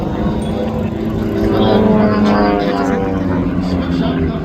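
Propeller aerobatic planes of the Redline team fly a formation hammerhead turn at the 2024 Toronto Air Show, a steady loud engine drone that swells slightly midway, with an announcer talking over it.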